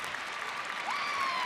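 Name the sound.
audience applause at gymnastics championship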